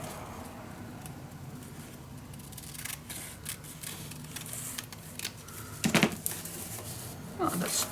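Paper being cut with scissors while making a scrapbook mini album, a run of faint snips and rustles under quiet room noise, with a louder cluster of cuts near the end and some talking.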